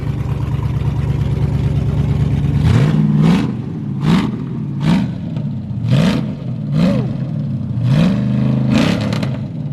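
LS-swapped Chevy S10 with a naturally aspirated 5.3 V8 rumbling steadily up close, then blipped through a series of sharp revs in quick succession, each rising and falling back to a loud idle.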